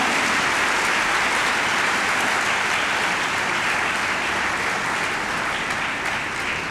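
Dense, loud applause from a church congregation celebrating the Feast of the Most Holy Body and Blood of the Lord, a continuous wash of clapping that holds steady throughout.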